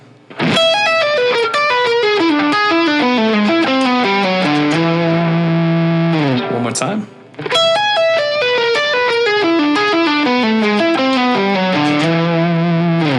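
Fast outside dominant 7 fusion lick in E on a distorted electric guitar, a dense run of quick notes played twice with a brief pause between, loud and alone.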